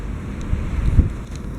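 Strong east wind on a deserted riverside embankment in Rostov-on-Don in February, buffeting the microphone in low, rumbling gusts that swell near the middle, with a steady faint background hum and no voices.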